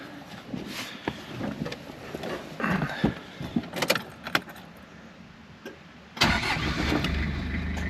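Toyota Hilux engine cranked inside a workshop, with rattling and handling noises first, then the engine catching near the end and running loudly and close.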